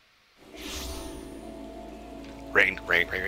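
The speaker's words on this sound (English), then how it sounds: "Rain, it's raining." Rain falling in Final Fantasy 14, a steady soft hiss of rainfall that starts abruptly, with someone speaking over it and sharp game effect sounds near the end.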